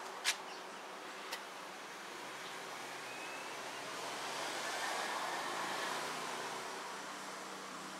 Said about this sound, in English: Found the cicada.